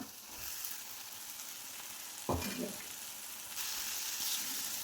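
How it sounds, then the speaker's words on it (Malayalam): Cut potikka vegetable drops into a sizzling pan for a dried prawn curry, a steady frying hiss broken by a sudden thump and splutter as the pieces land, then a louder, fuller sizzle. "ഇനി നമുക്ക് കട്ട് ചെയ്ത് വെച്ച പൊട്ടിക്ക ഇട്ട് കൊടുക്കാം."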